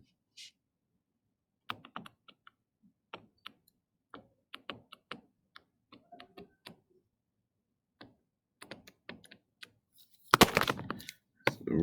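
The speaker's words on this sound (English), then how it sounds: "I'm going to put this on my calculator" Calculator keys being pressed for a projectile math problem: sparse, quiet clicks tapping in irregular bursts over near silence, ending in a brief louder rustle.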